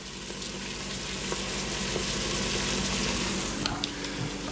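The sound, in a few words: onions sauteing in a pan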